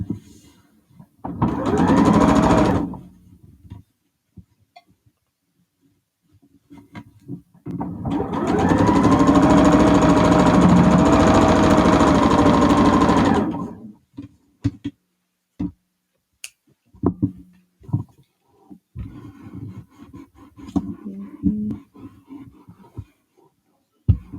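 A sewing machine stitches a quarter-inch seam on a quilt block, with a short whirring burst and then a longer steady run at close range, followed by fabric handling and small clicks.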